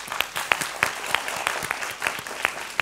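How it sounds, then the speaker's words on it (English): A studio audience at a debate show applauds a guest ambassador, a thin spread of distinct claps with sharp individual hits, moderately loud and steady throughout. "please give her a round of applause"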